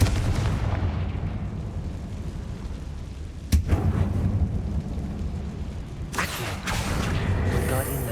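Confringo fire spells detonate in the Hogwarts Legacy video game, a sharp blast followed by a rumbling boom and a second crackling burst later over a low ambient drone.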